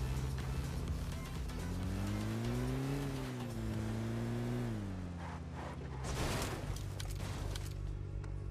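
A video game car engine drones steadily and rises in pitch as it accelerates with boost, then eases off, with a brief rough rush of noise near the end.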